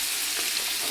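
Ridge gourd, egg and potato frying together in hot oil, giving a dense, continuous close sizzle with no voices over it.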